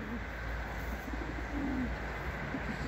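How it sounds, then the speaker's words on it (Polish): Domestic pigeons in a loft coo in low, throaty repeated phrases, a possible pair heard close against a steady background hum with no talk. "Prawdopodobnie para, gruchają."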